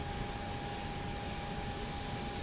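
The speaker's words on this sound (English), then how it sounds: "This plane coming in from Houston Hobby Airport." An airplane arriving from Houston Hobby Airport passes near Dallas Love Field, a steady loud jet roar holding at the same level throughout with no voices.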